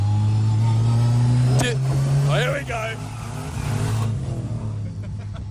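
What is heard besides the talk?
1974 Mazda RX2 car accelerating on a track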